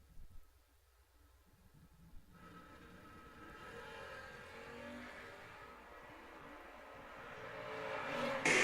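Drag race cars launching down the strip at a promotions event, engine roar building steadily from a distance and growing louder toward the end as they accelerate away.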